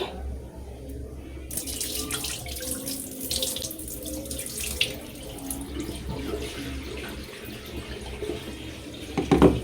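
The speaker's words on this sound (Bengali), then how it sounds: "তাহলে জলগুলো ফেলে দেই" Water poured off rice that has been soaking, draining steadily into a sink in a home kitchen as a continuous splashing flow, with a slightly louder splash near the end.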